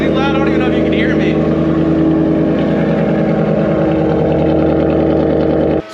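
A Shelby GT500 fitted with a Roush exhaust idles loud and close, a thick, throbbing low rumble holding steady throughout while a voice briefly speaks over it.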